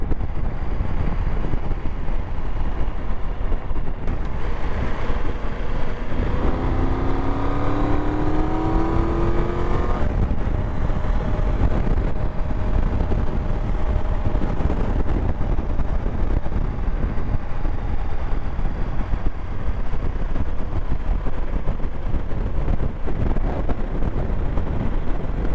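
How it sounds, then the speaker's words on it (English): Strong wind blows outdoors in Norway, a constant loud roar buffeting the microphone with no letup, while a faint engine drone rises and falls in the background. "the wind's worrying Blogsy."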